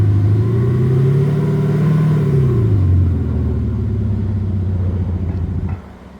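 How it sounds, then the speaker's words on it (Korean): A Chevrolet Colorado pickup truck with its stock exhaust idles loudly, revs up once, then settles back to a deep, steady idle before cutting out. "요게 이제 순정 배기음이고요"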